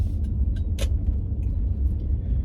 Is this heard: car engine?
yes